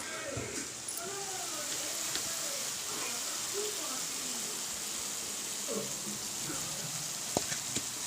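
Village-style sorrel greens being deep fried in hot oil, a steady broadband sizzle and crackle running throughout with a voice talking over it.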